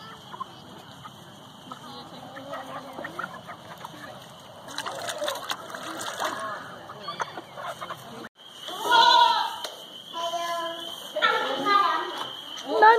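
Goats bleat in several wavering cries, close by, mixed with chatter from people nearby and some splashing water.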